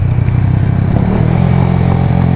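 A small Chinese motorcycle engine drones steadily at a loud, close, constant pitch while riding fast through curvy hills, with no pauses or speech.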